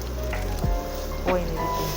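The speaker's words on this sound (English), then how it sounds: "So now I'm adding my meat stock to the boiling tomato." Meat stock poured into boiling tomato for egusi soup gives a steady close sizzle and bubbling with small splashes and a few sharper liquid plops.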